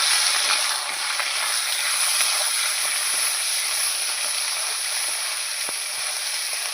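Potatoes frying in a pan with onion, ginger, cumin and garlic spice paste, a steady close sizzle with occasional stirring scrapes throughout, no voices.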